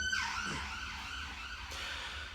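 An ambulance siren passes outside, its wailing tone sweeping up and down in repeated cycles, heard fairly faint and distant through walls over a low rumble of traffic.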